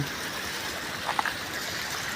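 River water flowing steadily outdoors on an overcast day, a soft continuous broadband rush with a couple of faint brief chirps or splashes midway, no talking.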